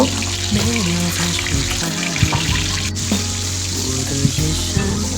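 Fish pieces dropped one by one into hot oil in a pan give a loud, continuous crackling sizzle with sporadic pops. A low tonal murmur runs underneath the frying.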